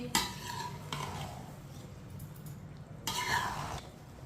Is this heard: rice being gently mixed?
yes